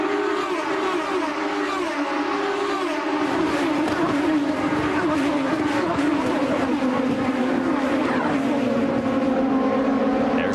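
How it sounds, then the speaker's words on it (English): IndyCar race cars at Watkins Glen under green flag racing, engines whining in high sustained tones that rise and fall as cars pass, continuous and fairly loud over the full stretch. "We're back to green flag racing here at Watkins Glen."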